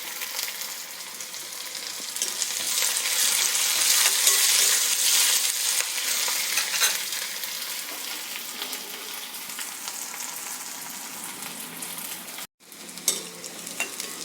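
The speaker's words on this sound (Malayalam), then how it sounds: "ചെറിയ ഉള്ളി ഇവിടെ നല്ലോണം ചുവന്ന് വരുന്നുണ്ട്" Shallots and curry leaves fry in a pan with a loud, dense crackling sizzle that eases slightly over time, broken by a brief gap and a faint scrape near the end.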